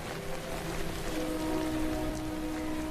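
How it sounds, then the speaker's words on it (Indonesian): Rain falls steadily on a remote, uninhabited island where castaways collect rainwater to drink. It makes a soft, even patter with no break and no voices. "Mereka pun menampung air hujan untuk diminum."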